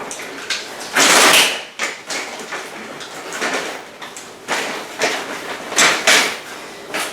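A Peg Perego Pliko Mini stroller being handled as its front mechanism unlocks, with a run of close plastic clicks, sliding rattles and thumps in irregular bursts.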